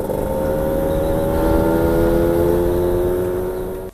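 A motorcycle engine fitted with an iridium spark plug and a 125 main jet runs smoothly at a steady, even hum, then tapers off at the very end, with no talk.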